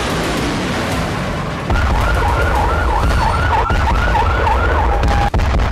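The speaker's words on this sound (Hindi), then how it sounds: "लेकिन 23 नवंबर की शाम को ही इजराइल में सायरन गूंजने लगे।" Air raid sirens wail across Israel in a loud, continuous rising-and-falling tone over a heavy background rumble, with no voices present.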